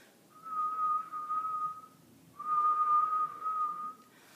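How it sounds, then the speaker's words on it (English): A person whistles with the tongue curled into an R shape, producing two sustained steady tones, each about two seconds long with a short gap between, clear and close with no talking. "we're just going to whistle a little"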